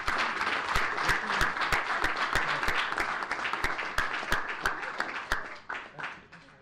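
Applause for youth speakers at an anti-bullying press conference, steady dense clapping from a gathered audience with a few sharp individual claps standing out, tapering off toward the end.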